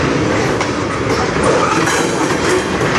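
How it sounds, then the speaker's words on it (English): A CN or VIA train rolling along the Strathroy Subdivision tracks, a loud continuous rumble with rhythmic clickety-clack of wheels over rail joints, close and steady. "I do see a train coming down there on an earlier track"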